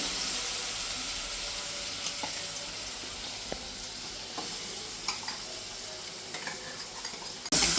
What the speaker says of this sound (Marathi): आता आपण ह्या तेलामध्ये सोडणार आहोत वाटण.